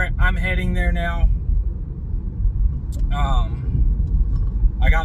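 Inside a moving car on the road, a steady low rumble of engine and tyres runs throughout while someone talks in short bursts over it.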